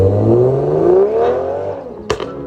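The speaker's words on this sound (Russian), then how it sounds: "для того, чтобы облагородить выхлоп с двумя режимами громкости" A BMW with a B48 or B58 engine and a valved loud muffler revs up, the exhaust tone rising smoothly and loudly before easing off, then a brief crackle at the end, close and with no talking.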